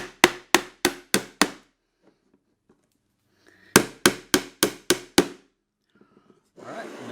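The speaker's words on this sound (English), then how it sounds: "finish driving the nails" A hammer drives nails into wood while assembling a wooden piggy bank: two close, loud bursts of sharp, evenly spaced blows, five and then six, with a quiet gap between them.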